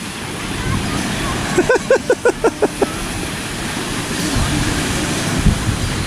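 Steady wash of surf and wind noise at the shore at Presque Isle State Park beach, waves hitting, with a short burst of rhythmic voiced sounds partway through.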